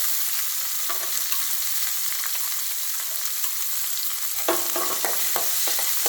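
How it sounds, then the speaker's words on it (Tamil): Ground onion paste and garlic for Tamil kara kuzhambu sautéing in a pan: a steady, bright sizzle throughout with intermittent scraping stir strokes that grow busier near the end, no talking. "நல்லா வதக்கணுங்க. வெங்காயம் வதங்கிடுச்சு."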